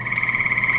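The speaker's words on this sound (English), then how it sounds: "Great tree frogs." Gray tree frogs call in a steady, rapid pulsing trill on an evening in spring, a continuous close chorus with no talk over it.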